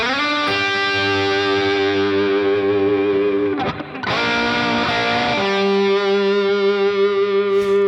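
A heavily distorted electric guitar plays a heavy shuffle rock lick, holding long sustained notes whose vibrato speeds up toward the end, with a short break partway through and rich overtones ringing out.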